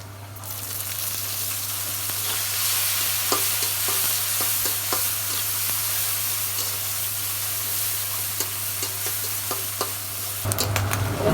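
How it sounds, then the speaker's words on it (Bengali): Prawns fry with onions in a pan, making a continuous loud sizzle and hiss with repeated stirring scrapes under a low steady hum. There is no talking, and the sound shifts abruptly near the end. "পেঁয়াজের মধ্যে আমি চিংড়ি মাছগুলো দিয়ে দেবো"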